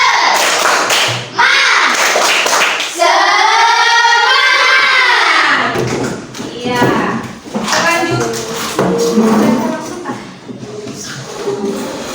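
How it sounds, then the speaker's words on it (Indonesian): A school classroom of children performs a rhythmic clapping chant in an Islamic religious education lesson, patterned group claps and thumps mixed with chanted voices, loud and close, with talking throughout. "Tepuk semangat."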